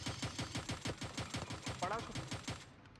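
Rapid bursts of automatic gunfire crackle in a fast, steady rhythm for about three seconds, fairly loud and close, with game-like sharpness and no talking.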